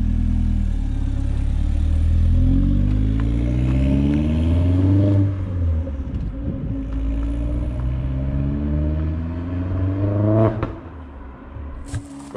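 Vauxhall Astra VXR fitted with a Milltek race exhaust revs repeatedly, rising and falling engine notes with a raspy edge, loud and close, easing back toward idle near the end.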